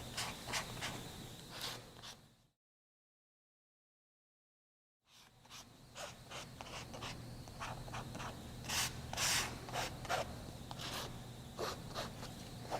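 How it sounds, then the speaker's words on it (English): A card pushed like a squeegee scrapes ink into fabric in short, repeated rubbing strokes, faint and close, broken by a brief silent gap before the scraping resumes. "I'm going to kind of squeegee it right into this background area"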